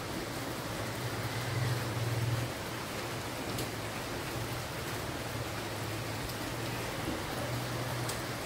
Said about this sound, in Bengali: এখনো হয়ে যাচ্ছে বৃষ্টি